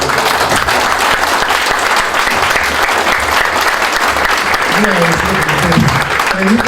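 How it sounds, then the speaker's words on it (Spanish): Sustained applause fills a courtroom hearing, steady and close throughout, with a voice speaking over it near the end. "Un aplauso para él"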